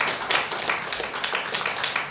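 A church congregation claps together in a dense, steady wash of hand claps, moderately loud and sustained throughout with no talk over it.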